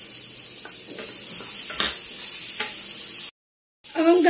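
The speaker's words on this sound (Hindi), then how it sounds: "अब हम इसमें बीन्स डालेंगे।" Beans sizzling in a frying pan with browned ginger and green chilli, a steady bright hiss with a few stirring scrapes, broken by a short gap before the frying resumes louder.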